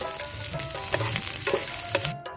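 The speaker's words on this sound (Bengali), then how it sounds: "আলু সিদ্ধর জন্য পেস্টটা ভেজে নিব।" Spice paste for mashed potato fries in a pan, crackling and hissing steadily up close, broken by several stirring scrapes, then cutting off abruptly at the end.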